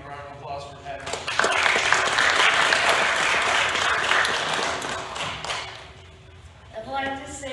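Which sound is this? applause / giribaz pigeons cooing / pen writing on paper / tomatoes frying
applause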